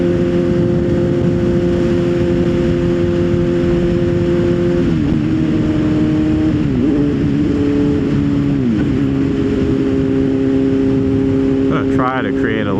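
A 600cc motorcycle engine drones steadily and close, its pitch dropping and climbing in steps through gear changes, with a voice talking over it.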